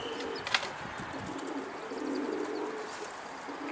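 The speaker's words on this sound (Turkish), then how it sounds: "Kuş rap diye kendini attı içeri" A runaway pigeon that had been flying with wild birds drops inside a loft, with a short burst of wing flaps near the start followed by soft, low cooing against a quiet background.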